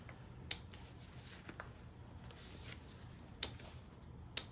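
Scissors make small stress cuts into fabric near the stitching, three sharp isolated snips spaced apart over a quiet background.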